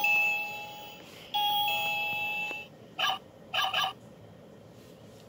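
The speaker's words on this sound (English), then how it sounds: "Let me ring the doorbell." A two-note electronic doorbell chimes twice in succession, ringing out clearly, followed by a few short bright tonal bursts and quiet background.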